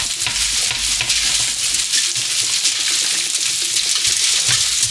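Fresh penne pasta is stirred in a pot of boiling water, a loud, continuous bubbling rush with repeated scraping and swishing strokes of the spoon close by, no voices.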